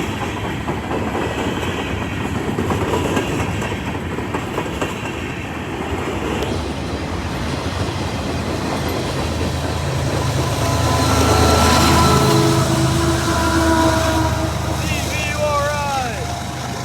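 A CSX grain freight train rolls past at a steady roar with rumbling wheels and clattering cars. The sound grows louder toward the middle, high squeals come near the end, and faint talk sits under the train noise.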